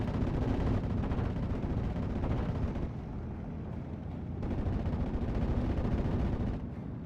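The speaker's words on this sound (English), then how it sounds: "Strafing run comes on in." Aircraft strafing run in the Steel Division war game, a dense continuous roar of rapid gunfire and explosions at moderate level, sustained throughout with a slight dip midway.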